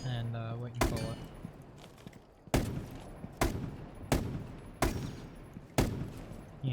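Rainbow Six Siege gun tap-fired in spaced single shots, six sharp loud reports at roughly one-second intervals, each with a short decaying tail, a brief tone heard before the first shot.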